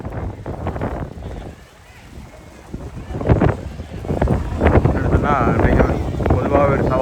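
Strong wind buffets the microphone at an outdoor international kite festival in Valvettithurai on a rainy day. Heavy low rumbling gusts rise and fall throughout, under and between a voice speaking nearby.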